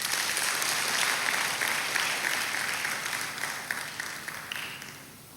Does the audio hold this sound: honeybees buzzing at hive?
no